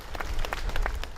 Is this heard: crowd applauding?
yes